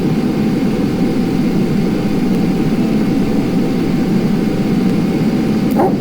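A flying vehicle's engine in the Mars survival game Occupy Mars drones steadily and loudly, a constant low jet-like roar with a faint steady tone, unbroken for the whole stretch.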